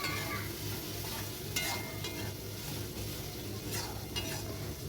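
Spices with salt, turmeric and chili powder frying in a village kitchen pan, a low, even sizzle with a couple of brief scraping stirs, fairly quiet and without voices.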